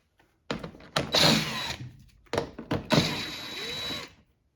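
A cordless power tool whirs in several short bursts while backing screws out of plastic bumper trim on a 2007-2013 Toyota Tundra, near and loud with brief pauses between runs.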